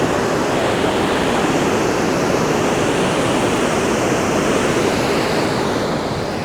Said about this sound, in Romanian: Uitați-vă ce debit are râul ăsta,